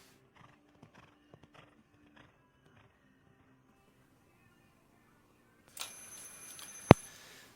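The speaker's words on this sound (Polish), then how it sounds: "Trochę ten galop jest mało energiczny i skoki też raczej takie oszczędne" A horse gallops in a class P show jumping round at Bogusławice, with faint scattered hoofbeats at a distance, then a wash of louder broadband noise and one sharp, loud knock near the end.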